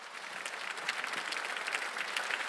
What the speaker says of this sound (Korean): 우리 하나님께 박수칩시다.